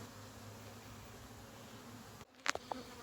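Honey bees hum in a steady, dense drone while two colonies are merged, with a few sharp knocks and rustles breaking in near the end.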